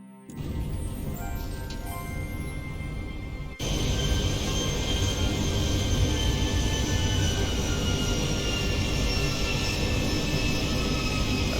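Boeing 737-800 jet engines roar in the X-Plane 12 flight simulator, a steady broadband whine and rumble that jumps louder a few seconds in and then holds constant.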